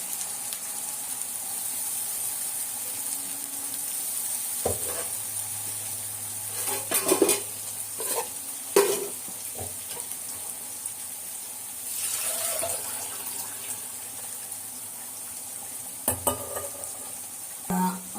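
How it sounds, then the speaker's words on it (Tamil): Ground masala sautéing in a pan, a soft low sizzle under occasional stirring scrapes and a few clattering knocks of utensil on metal, mostly quiet and steady with no speech. "நம்ம வதக்கிருக்கிறோம், இருந்தாலும் கொஞ்சம் நல்லா மசாலா வதங்கணும்"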